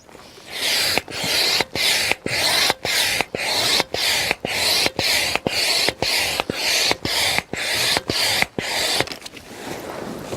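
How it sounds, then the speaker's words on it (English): A manual pump inflates a Kampa Ace AIR 400 inflatable caravan awning, giving about sixteen steady, evenly spaced rasping hiss strokes, each with a short pause between, loud and close with no talk. "then you attach the pump here in the middle to this one point, and then you just start pumping"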